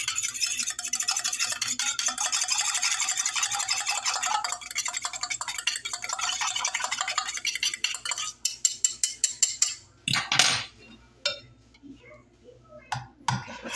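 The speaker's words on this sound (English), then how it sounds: "I'm going to beat the egg in this first" Whisking a whole egg in a measuring cup, a fast steady scraping and clinking that runs continuously for about eight seconds, then breaks into a few separate taps and clinks before fading out.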